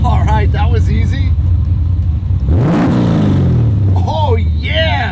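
A 1969 Chevrolet Camaro SS with a 490ci V8 of over 500 horsepower revs hard and close, a loud rumbling idle sweeping up in a rising roar and dropping back, with voices talking over the engine.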